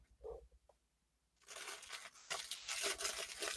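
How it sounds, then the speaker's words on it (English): McDonald's paper bag rustles and crinkles close to the mic, starting after a quiet moment and going on in continuous crumpling bursts to the end. "All I can hear is your McDonald's bag rustling."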